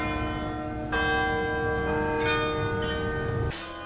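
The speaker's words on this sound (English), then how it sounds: "The bells that ring every day in Norwood are located inside the town hall." Bells ringing inside the town hall in Norwood, several sustained tolls sounding together with a rich ringing tone that holds steadily for about three seconds before cutting off.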